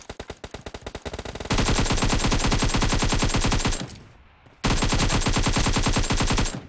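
PUBG Mobile gunfire: rapid automatic bursts, first a lighter series of shots and then a dense, loud sustained stream, a brief pause, then another heavy burst.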